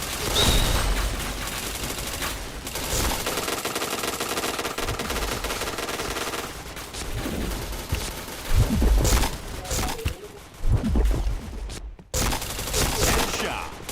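Rapid automatic gunfire from the shooter game Point Blank, with sustained bursts and sharper individual shots rising and falling over fourteen seconds, dropping briefly to near silence before resuming, with occasional voice in the background.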